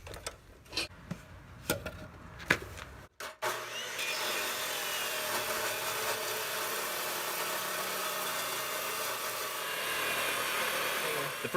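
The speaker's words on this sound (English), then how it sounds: "The first thing I'm going to do is I cut a piece of that 2x4" A power saw cuts a piece of 2x4 wood for a front dozer blade on a Massey Ferguson 50 tractor, a steady close whining cut after a few knocks and clicks at the start.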